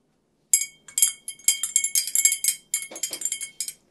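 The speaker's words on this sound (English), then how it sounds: "And we're going to mix well." Spoon stirring lemonade in a glass, a fast run of bright clinks and taps against the glass, close and clear with nothing else heard.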